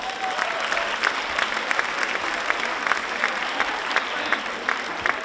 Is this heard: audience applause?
yes